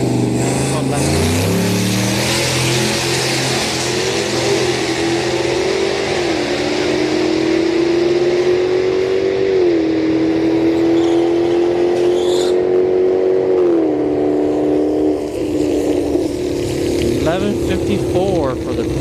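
A Turbo Yukon and a Jaguar launching side by side at a night street drag race, with loud engines roaring and rising through gears in a long, steady howl close by, and the growl fading near the end.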